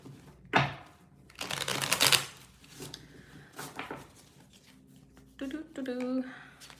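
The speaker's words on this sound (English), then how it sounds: "Let's shuffle first" A deck of cards is shuffled before a reading, giving a few bursts of riffling and rustling. Voices talk around and over it.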